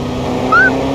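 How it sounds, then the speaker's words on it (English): A car drives in the Fortnite video game, its engine a loud, continuous drone with a short rising whine in the middle of the one-second stretch. "Ah, it's a car! It's a car chase!"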